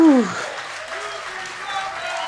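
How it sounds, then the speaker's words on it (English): A large arena crowd at a Schmoedown trivia match cheers and applauds loudly and steadily, with a voice talking over the noise at the start. "Look at the crowd, Mark. They're going nuts."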